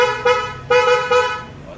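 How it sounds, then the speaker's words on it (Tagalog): A G-Star horn fitted to a Honda Airblade 150 scooter gives three loud, close honks, the last two longer than the first. "yung G-Star horn ay kabit na rin"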